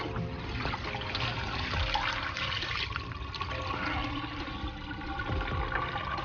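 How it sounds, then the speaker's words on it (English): Dirty water from a car rinseless wash poured out of a bucket, a continuous splashing, trickling gush at moderate loudness without speech. "we're just gonna go ahead and pour all this water out"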